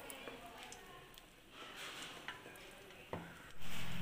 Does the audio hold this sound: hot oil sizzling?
yes